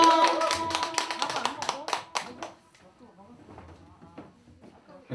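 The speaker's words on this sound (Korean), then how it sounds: "여러분 뜨거운 박수로 환영해 주시기 바랍니다." A small group at a year-end gathering claps in welcome for a speaker. Sharp, close hand claps burst for a couple of seconds, then die away into quieter sounds and a few voices.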